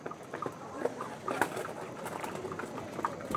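Doyaj pigeons coo softly nearby, a few low, rolling calls scattered over faint background noise, quiet and unhurried.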